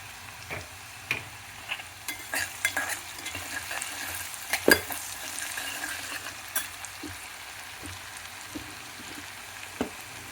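Potatoes and soya chunks frying in a pan with salt, a soft continuous sizzle broken by scattered clinks and scrapes of a spoon stirring.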